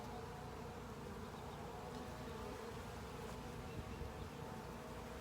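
Honey bees buzz at an open hive during a spring hive inspection, a dense, steady swarm drone with no breaks, close and fairly loud, holding one even level throughout with no voices over it.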